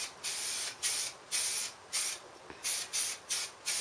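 Bursts of basic acrylic aerosol primer spray paint applied outdoors, about eight short hissing sprays of roughly a quarter to half a second each, close and evenly paced with brief gaps between them.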